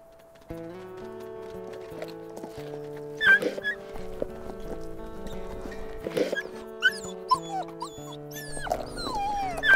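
Wolf puppies in the WolfQuest video game give high, thin whimpers and squeaky yelps in scattered bursts over a steady layer of game music tones.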